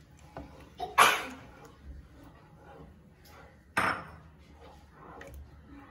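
Fruit custard mixture stirred in a pan, with a spoon knocking sharply against the metal twice, early and again midway, over quiet, soft scraping in between.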